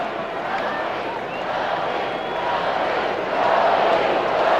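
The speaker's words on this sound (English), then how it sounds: "Crowd getting a little more lively now that the Mariners have put a couple of runs on the board here in the 6th inning" A large baseball crowd at a 1998 Mariners-Yankees game murmurs and swells, a broad steady roar that grows louder toward the end.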